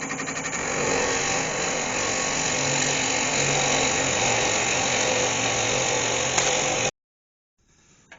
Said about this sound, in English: I'm going to drill a hole in the end and just roughly hollow that. I'm just going in with the Forstner bit now.